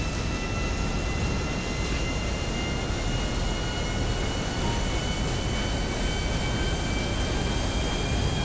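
A huge, heavy Volatol military aircraft taking off in GTA 5, a steady dense engine roar with a constant high whine, loud and unbroken throughout.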